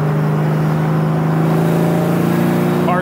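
Supercharged engine of a 2003 Ford Cobra pulling steadily at partial throttle, a loud, close, sustained drone with a low hum that holds even for about three seconds, with no talk over it.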